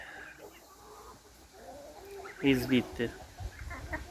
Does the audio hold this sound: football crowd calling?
no